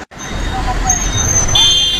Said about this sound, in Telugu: తెనాలి కొత్తూరులంక బస్సులో ప్రయాణంలో ఉన్నాము.